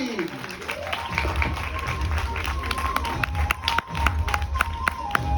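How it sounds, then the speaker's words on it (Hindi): An audience at a stage talk event applauds the guests walking on, a full, sustained burst of many hands clapping with some cheering and crowd noise, steady and fairly close throughout. "तालियां थोड़ी जोर से होनी चाहिए फॉर आवर फैंटास्टिक लीडर्स"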